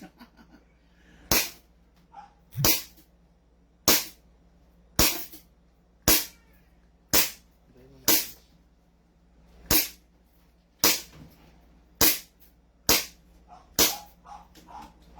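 Airsoft pistols, including a CZ Shadow 2, KP19 and 2011 Hi-Capa, fire about fourteen sharp single shots at targets in a steady, evenly spaced rhythm, each report loud, close and clear over a quiet background.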